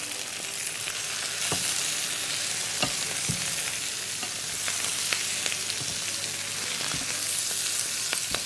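Spinach sizzles and crackles loudly in a hot pan while cooking Thai basil minced pork, a continuous close frying hiss broken by occasional sharp pops and stirring clicks.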